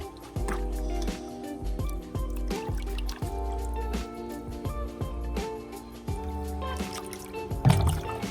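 Washed sand is poured from a bucket into a tropical fish pond, making a close, continuous watery pour and trickle with splashy, gurgling bursts and a sharper splash near the end, under a faint background hum.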